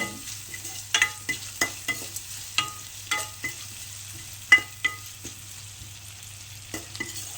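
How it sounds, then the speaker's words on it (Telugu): A spoon stirs and mixes food in a frying pan with a steady series of distinct scraping knocks roughly every half second, over a soft continuous sizzle and low hum, with no talking. "వేసి బాగా కలిపి పెట్టుకోవాలండి"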